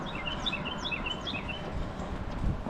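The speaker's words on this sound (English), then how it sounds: "And nice birds here too" Several small birds chirp and tweet repeatedly near South Ponte Vedra Beach, Florida, their quick high calls standing out over a soft, steady outdoor background.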